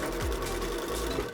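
A sewing machine stitching fabric for MOLLE webbing on a modular vest, a close, steady run of rapid mechanical clatter through the short clip with no talking.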